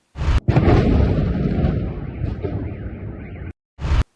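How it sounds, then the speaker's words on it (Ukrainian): Explosions reported in Crimea come through as a sustained, loud, rumbling blast roar lasting about three seconds, followed by a short gap and a second burst at the end, with no talk. "телеграм-канали повідомляють, що вибухи відновилися. Ось такі вони."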